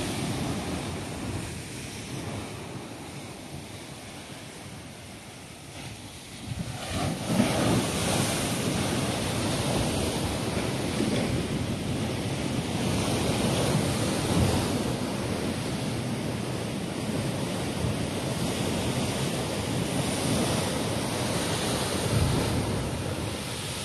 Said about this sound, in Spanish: es que el oleaje está espectacular